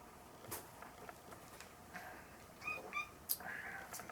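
A cat meows a few short times nearby, faint and intermittent, in a quiet indoor room.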